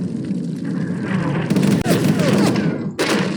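Sniper rifle shots in a WWII sniper video game boom at a moderate distance over a dense battle ambience, with a couple of sharper cracks standing out.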